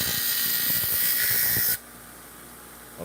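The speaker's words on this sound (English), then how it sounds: "if the audio is just terrible with this bench grinder" A bench grinder whines loudly and steadily as it sharpens a kitchen knife, then the high grinding abruptly cuts out about halfway through, leaving a quieter hum.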